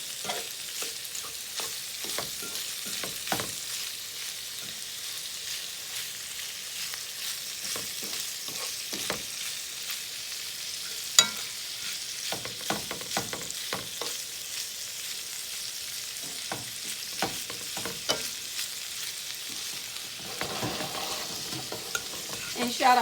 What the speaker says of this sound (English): of course I just turned on the pork and beans and onions and bacon